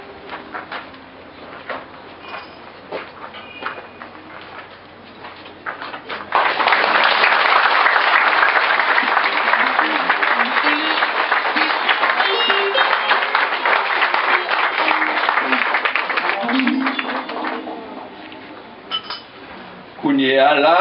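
A congregation at a church installation of a new priest in Gressier breaks into loud, sustained applause after quiet murmuring, the clapping swelling abruptly and continuing for about twelve seconds before fading back to room noise.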